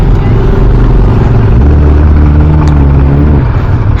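Kawasaki ZX-10R motorcycle engine running loud and steady at close range, its low droning note rising and holding as it revs for a wheelie, with no talk over it.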